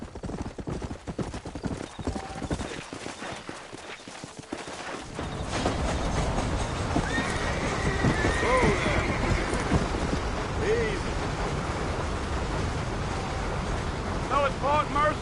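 Horses in the Red Dead Redemption video game, with steady hoof clip-clop and whinnies amid rolling wagon and gusting wind noise, close and fairly loud, while characters talk.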